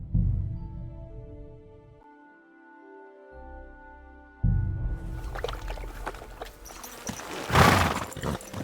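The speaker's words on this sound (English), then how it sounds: "Easy, good horse." Horse hooves and whinny in Kingdom Come Deliverance II, with a quiet tonal stretch giving way to close clopping and snorting and a loud whinny near the end.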